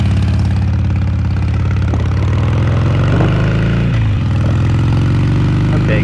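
A motorcycle engine idles steadily after being started, a loud, continuous low rumble held throughout with a brief dip in the middle and no talking.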